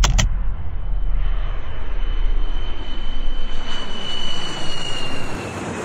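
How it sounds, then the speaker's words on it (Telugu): Airliner engines roar steadily in the flight simulator game Eurofly, a continuous loud broadband drone with a faint high whine rising late, heard alone without talk. "లెఫ్ట్ నుండి రైట్కి ఒక వేరే ఫ్లైట్ వెళ్ళింది"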